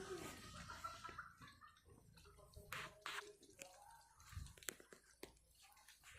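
Water pumped into an elevated storage tank during initial pump testing, heard as irregular splashing, dripping and trickling close by, with faint whispering voices in the background.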